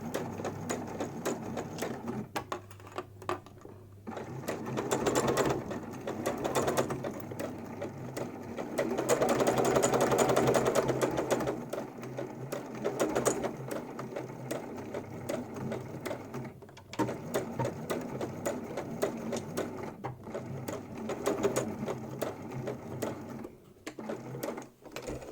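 Home sewing machine stitching layered fabric for a homemade face mask with a nose clip, a steady mechanical whirr that runs continuously, speeds up and briefly swells around the middle, then carries on with short pauses.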